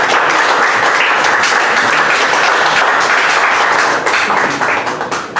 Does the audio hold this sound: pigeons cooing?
no